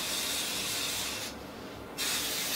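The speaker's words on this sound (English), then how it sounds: "So I'm going to put half up and spray that, and then we're going to spray the top half." IGK No More Blow hair product sprayed onto hair in two close, steady hissing bursts separated by a short pause.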